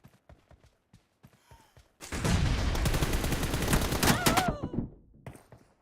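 Gunfire in a battle royale video game: a loud, dense burst of rapid shots lasting a couple of seconds, preceded by scattered quieter clicks and followed by a few faint taps.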